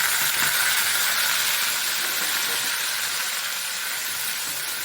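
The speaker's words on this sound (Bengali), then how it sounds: "এবার আমি মশলাটাকে একটু কষিয়ে নিচ্ছি" Ground spice paste of ginger, fennel, cumin, coriander and tomato fries in a pan with cumin, bay leaf and dried chilli, giving a steady, loud broadband sizzle throughout with no talking.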